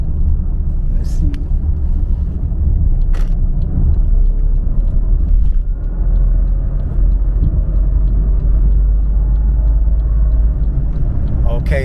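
A BMW 7 Series with a cooling mod pulls hard through about three gears, a continuous heavy engine rumble heard from inside the cabin with faint clicks over it.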